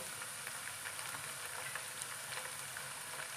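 Garlic sizzles in hot oil for an Onam-style lemon pickle, a dense, even crackling hiss that runs steadily throughout, close and without any voices.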